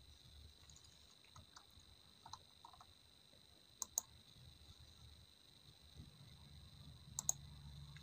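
A computer mouse gives a few faint, sparse clicks spread over several seconds, with a low steady room hum underneath.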